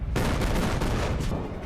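Gunfire erupts in a film scene, a dense burst of rapid overlapping shots and blasts from weapons firing on a shore, loud and continuous for over a second.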